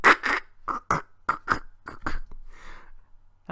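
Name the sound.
vocal imitation of a zebra crossing a bridge in Brooklyn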